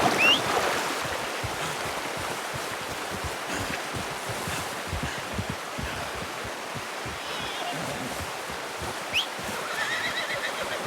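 A horse in Red Dead Redemption 2 whinnies briefly, once near the start and again later, over a steady wash of background noise.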